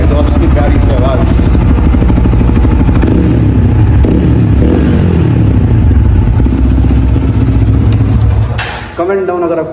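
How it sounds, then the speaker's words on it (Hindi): Race-tuned TVS Apache RTR 160 4V motorcycle with a 14-tooth sprocket, its exhaust roaring loud and close in a steady, heavy drone with some revving, cutting off near the end. "तब तक के लिए सुनो एक बार एग्जॉस्ट की प्यारी सी आवाज़"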